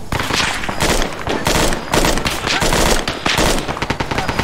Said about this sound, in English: Taking fire! Putting some more fire down towards the enemies.